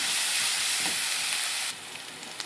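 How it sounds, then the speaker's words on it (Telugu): Ginger garlic paste hitting hot oil in a pan for curry, a loud dense hiss that suddenly drops to a quieter sizzle with a faint spoon tap near the end, close and without talk. "ఇప్పుడు అల్లం వెల్లుల్లి పేస్ట్ కూడా వేసేద్దాం"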